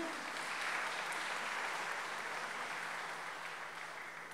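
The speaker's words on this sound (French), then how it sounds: "Donc on peut les applaudir." Congregation in a church at Trinity Sunday Mass applauding a visiting choir, a broad, even wash of clapping that sounds somewhat distant and fades slightly at the close.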